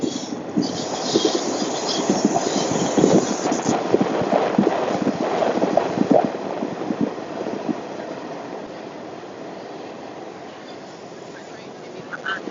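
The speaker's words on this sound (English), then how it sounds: "My train is coming." Passenger train pulling into a city station, with a broad rumbling roar, rattling and faint squealing that swells and then slowly eases off, heard up close as a person talks over it.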